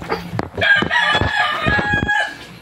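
Chickens on a farm, with a rooster crowing loudly and close by in one drawn-out call among clucking hens and rustling, and no talking.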